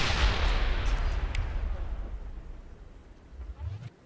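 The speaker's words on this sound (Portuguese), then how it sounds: "descobri como é que taca granada" A grenade explosion in the video game Mass Effect: Legendary Edition, a loud booming blast with a heavy low rumble that slowly fades over several seconds, followed by a brief low thud near the end.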